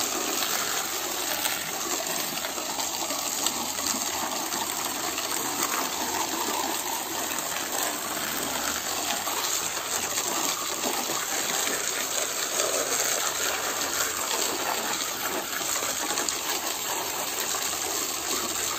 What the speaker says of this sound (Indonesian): Pokoknya disiram terus biar lendir atasnya itu terbuang.